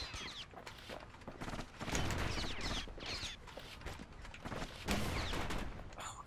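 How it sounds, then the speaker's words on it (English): Big gun's power shot firing in the video game Bastion, a rapid series of loud, punchy blasts and impacts with sweeping effects, repeating across the scene. "Right there is the power shot"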